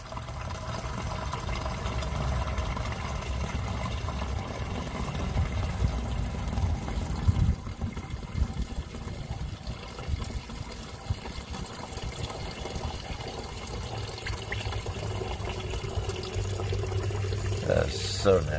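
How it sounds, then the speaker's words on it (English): Fluid drains out of a 1976 Ford F250 and is rinsed from the pan as a continuous trickle and splash. The flow shifts in strength partway through, and a voice is faintly present at times. "It doesn't look like diesel fuel coming out"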